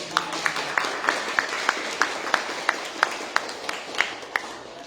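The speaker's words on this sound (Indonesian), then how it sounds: "Tepuk tangan dong." Audience at a plant-protein campaign and education event claps in a slow, steady rhythm, distinct regular beats heard over a soft background of crowd noise.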